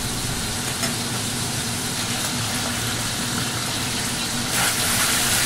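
Sea cucumber stir-fried in a pan gives off a steady, loud sizzle that holds even throughout, with a brief swell near the end and no voices.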